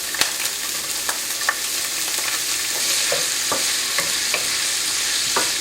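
Diced pancetta fries in oil, a loud, continuous, close-up crackle with scattered sharp pops and spatters throughout and no voices.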